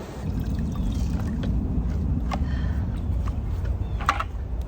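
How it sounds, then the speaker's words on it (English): Water pours steadily from a watering can around the base of a garden plant, a continuous trickling splash close by with no talking. "so I have a watering can"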